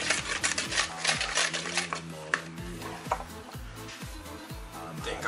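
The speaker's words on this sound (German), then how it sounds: "gut umrühren" A spoon stirs Swedish kladdkaka batter with vanilla sugar in a bowl, close, steady rhythmic clinking and scraping strokes against the bowl repeating throughout.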